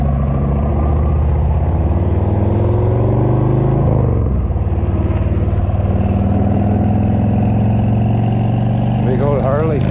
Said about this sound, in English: Big old Harley.